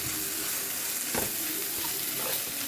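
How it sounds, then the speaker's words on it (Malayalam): Prawns and shallots are stirred together in a hot pan, a close, even sizzle of frying broken by a brief scrape of the spoon midway. "ഇനി നമുക്ക് ഈ നേരത്തെ നമ്മൾ നീക്കി വെച്ചിരുന്ന ആ ഉള്ളിയായിട്ട് മിക്സ് ചെയ്യും."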